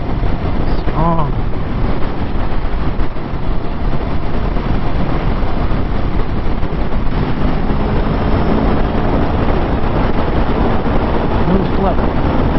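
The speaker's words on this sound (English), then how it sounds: "Wind though. Wind tonight." Strong wind buffets the microphone while riding a 2021 Aprilia Tuono V4 Factory motorcycle at night, a loud, constant roar that fills the clip, with a voice talking briefly over it.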